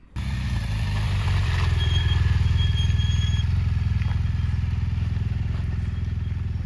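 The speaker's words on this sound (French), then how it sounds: "construire de la vitesse en bas, un coup de gaz, et puis ensuite on continue la montée sur l'élan" A heavy BMW R1200GS adventure bike pulls hard up an off-road slope, its boxer-twin engine rising from a low throttle blip to a loud, steady pulling drone close by, with occasional clatter from the terrain.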